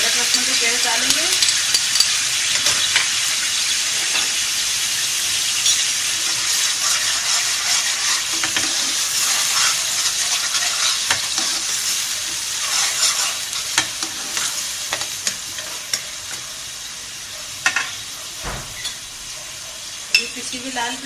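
Ginger garlic paste, added after browned onions and yogurt, sizzles steadily in a frying pan while being stirred, with scraping strokes throughout. The sound is close and continuous, without a pause.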